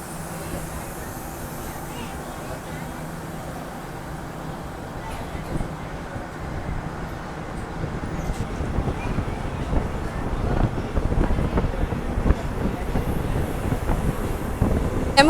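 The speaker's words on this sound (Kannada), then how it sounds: "ಈಗ ಡಿಪಾರ್ಚರ್ ಆಗ್ತಾಯಿದೆ ನೋಡಿ ನಮ್ಮ ಟ್ರೈನ್." A Ballari to Davanagere DEMU train pulls out of Kudutini station: a low rumbling drone that builds as it gets under way, with wind buffeting the microphone and rattling growing louder toward the end.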